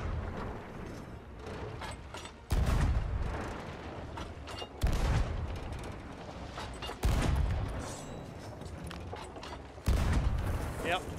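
Gunfire in a video game, heard as four loud, broadband bursts spaced a couple of seconds apart, each decaying into a lingering rumble over a steady background bed.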